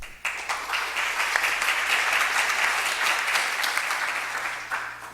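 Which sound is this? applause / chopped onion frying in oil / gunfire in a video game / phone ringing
applause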